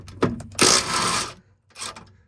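Short ratcheting clicks from a wrench loosening car seat bolts and nuts, a few quick clicks followed by a longer scraping crank and one more brief burst, close and fairly quiet.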